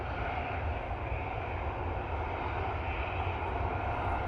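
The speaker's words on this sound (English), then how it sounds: "We do have our next arrival. That is the EasyJet coming in from lovely Isle of Man." An EasyJet airliner arriving at windy Manchester Airport from the Isle of Man produces a low, steady engine rumble at a distance, constant and unbroken with no voices.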